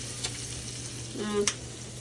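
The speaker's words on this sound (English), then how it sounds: "So you're gonna cook your shrimp in your butter and your garlic, like so." Shrimp frying in butter and garlic in a pan gives a steady, moderately loud sizzle with a couple of brief clinks or stirring scrapes.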